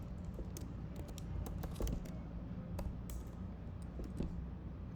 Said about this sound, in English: I'm just typing test.